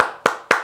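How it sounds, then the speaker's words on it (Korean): A church congregation claps together after a worship service, two sharp group bursts a quarter-second apart following a decaying clap, loud and close with no talking. "우리 예배 받으신 하나님께 큰 영광의 박수 올려드리겠습니다"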